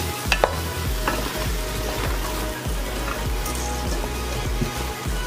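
Cut okra, brinjal and other vegetables stirred and frying in a pan for a dried-fish tamarind stew, with steady close sizzling and repeated scraping stir strokes throughout, no voices.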